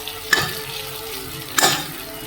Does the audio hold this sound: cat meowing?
no